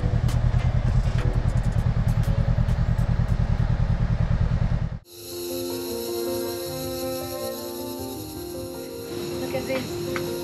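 A motorbike ridden through Gorontalo province, Sulawesi, its engine a steady close rumble with rattling clatter; after about five seconds it cuts to a different scene full of layered high insect-like buzzing and trills.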